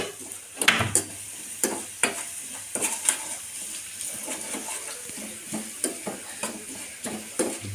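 Clam masala frying in a pan and being stirred: sizzling under a string of sharp utensil scrapes and clinks against the pan, close and fairly loud, with no talking.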